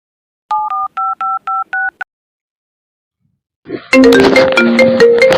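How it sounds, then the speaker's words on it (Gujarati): A phone number is keyed in on a handset in a village comedy scene: six short, evenly spaced dual-tone keypad beeps ring out clearly in silence, followed after a pause by a loud, busy burst of tonal phone audio. "હા તે ફોન કરું, ઉભા રહો"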